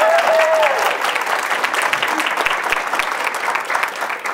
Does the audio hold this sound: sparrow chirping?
no